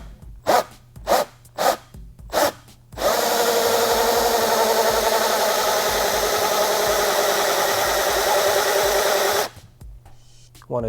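A power drill fitted with a hole saw bites into a 2015–2018 Yamaha YZF-R3 motorcycle fairing, first in four short pulsed bursts, then a steady close whining grind for several seconds before stopping.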